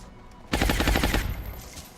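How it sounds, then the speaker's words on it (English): A gunshot in the XCOM video game cracks out after a brief quiet moment as a sharp, rapid burst of repeated reports, loud and close, then fades quickly. "maybe we can take the second shot with the pistol"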